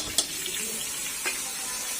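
Ingredients for pork pochero sautéing in a pan, a continuous sizzle with a sharp clatter near the start and another stir-like scrape shortly after, no talk.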